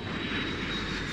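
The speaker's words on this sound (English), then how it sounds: "Aeroplane" Steady, continuous drone of an aeroplane engine, broad and even throughout with a faint high whine, heard alone without speech.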